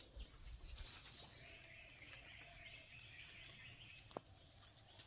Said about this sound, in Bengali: আর পাখির কিচিমিচি শব্দ শুনতে কার না ভালো লাগে।